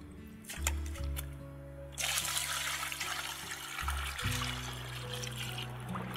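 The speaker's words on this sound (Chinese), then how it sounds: "把猪皮再清洗两遍，最好是用清洁球先洗一遍，" Pork skin being washed in water, with splashing and trickling that grows fuller and steadier partway through and continues alone without talk, under a steady background hum.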